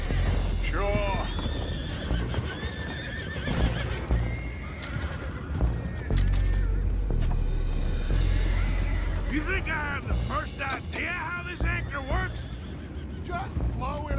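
Horses neigh and whinny repeatedly amid clip-clopping hooves in the video game Red Dead Redemption 2, several loud shrill calls over a busy scene with voices talking and shouting throughout.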